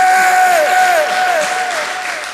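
Loud, dense applause and crowd noise fill the room at an alumni reunion dinner celebrating fifty years of friendship, with a sustained tonal whine running through the steady clapping.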